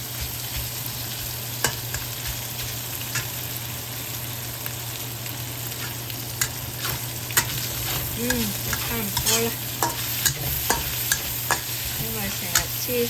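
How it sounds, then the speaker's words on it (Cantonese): Bacon stir-fries in a wok with a continuous close sizzle and crackle, scraped by a utensil in irregular clinks, while a voice speaks briefly. "你想啲 bacon 啲油出多啲就炒耐啲"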